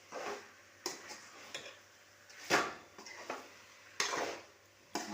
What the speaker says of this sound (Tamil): கறியையும் சேர்த்து நல்லா பரட்டி விட்டுப்போம்.